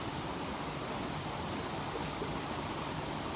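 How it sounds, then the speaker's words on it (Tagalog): Steady rain pours down at an outdoor shelter, a dense, even hiss that fills the whole stretch without pause, with no voices over it. "Huwag ka sanang lumakas ulan."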